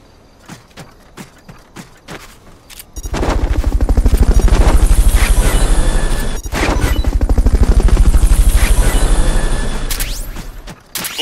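Helicopter in the video game Metal Gear Solid Peace Walker, a loud sustained rotor roar with rapid chopping pulses that swells in after a few sparse impacts, holds steady with a brief dip, then fades at the end.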